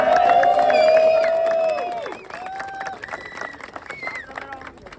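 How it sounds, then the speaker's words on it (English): A crowd at a transit workers' union rally in Harrisburg claps and cheers across the room, loud and sustained, while a voice rings out over the start and the applause carries on beneath it. "Round of applause."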